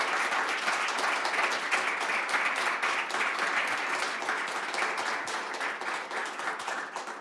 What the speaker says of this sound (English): Could I invite you all, please, to share a very grateful round of applause to our panellists today